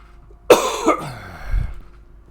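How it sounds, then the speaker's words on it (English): A person coughs in a quick harsh burst followed by a rougher throaty cough and a faint low rumble, close and loud with no talk. "this is the most I've ever coughed in an episode"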